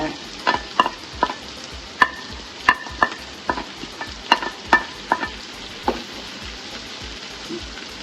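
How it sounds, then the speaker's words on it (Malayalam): Onions and green chillies go into a pan of hot oil for a coconut-based egg curry, frying with a steady background sizzle punctuated by repeated sharp clinks and scrapes of stirring, close and clear with no talk. "ഇതൊരു വലിയ സവാളയാണ്, അതിന് മുട്ടയ്ക്ക് സവാള ഇടുക. പച്ചമുളക് ഇടുക."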